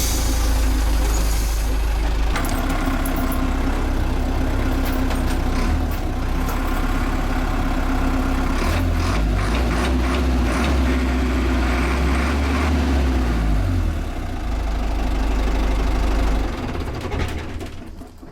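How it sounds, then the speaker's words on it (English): A camper bus engine idles steadily and loudly close by, a constant low rumble with a faint hiss now and then, easing off slightly near the end. "The engine works."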